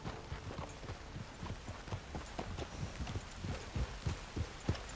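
Horse hooves clip-clop at a steady riding pace in Red Dead Redemption 2, an even rhythmic clatter close by and moderately loud, with no voices.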